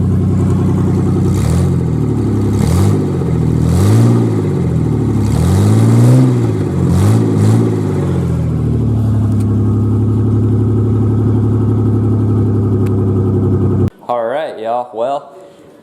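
A 1995 Ford Ranger with a 4.0 engine and open headers revs up and down hard several times, then settles into a loud, rough idle with a steady drone, heard up close.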